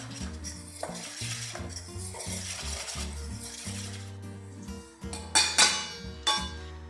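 A bowl of almond flour batter with salt, baking powder and baking soda for a gluten-free lemon loaf cake is mixed, with utensil clinks and scrapes that sharpen near the end over steady background music.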